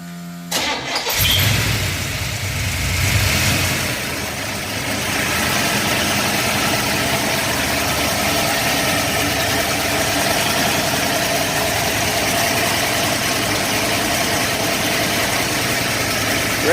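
A car's 455 V8 engine cranks and catches, then settles into a steady, loud, throbbing idle that continues without a break.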